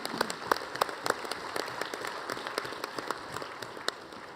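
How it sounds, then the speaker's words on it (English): Audience applause at a National Congress of American Indians assembly, a steady wash of many hands clapping with scattered sharper claps, heard from the crowd at moderate distance. "I think we ought to honor them with a round of applause."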